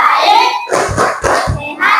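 A teacher leads a group in a rhythmic clapping chant, with bursts of hand claps and thumps falling in a short pattern between spoken chant lines, close and fairly loud.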